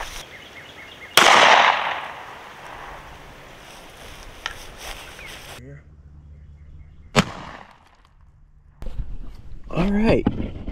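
A 9mm Winchester USA Ready 124 grain +P round is fired into a ballistics gel block as one sharp loud gunshot early on, followed by outdoor quiet, faint clicks and talk.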